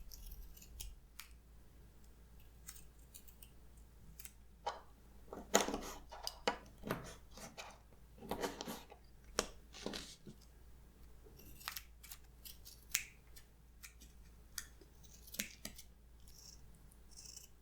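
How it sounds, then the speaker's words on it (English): Scissors snipping out paper pieces at a table, close and crisp, with bursts of quick cuts and paper rustling separated by pauses, no talking. "let's cut out the pieces and tape them onto the lids or the sides of the jars"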